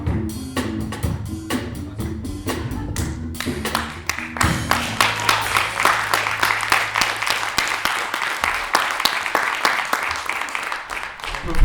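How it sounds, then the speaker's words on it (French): Music plays at first, then an audience at a poetry and music show applauds the two performers with a long, dense run of clapping that swells and holds, voices faintly mixed in. "On peut vraiment applaudir encore Quentin et Charles-Harry pour leur performance."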